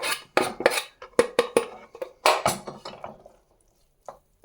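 Stirring fregola with saffron, chopped parsley and broth in a pot: a quick series of scraping, clattering utensil strokes against the pot, close and loud, then trailing off into near silence with one soft final knock.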